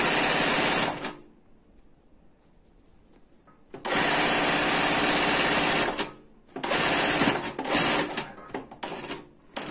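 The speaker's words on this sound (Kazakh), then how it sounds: "жегін айналдырып тігіп аламыз." An electric sewing machine stitching a fabric quilt piece runs in fast, buzzing bursts, a short run, a long pause of near quiet, then several longer runs close by, with no speech.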